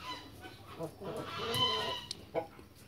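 A hen with a calcium deficiency clucks softly in a farmyard, a few scattered low calls mixed with faint rustling and distant background noise.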